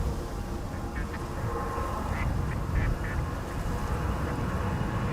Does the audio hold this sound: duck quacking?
yes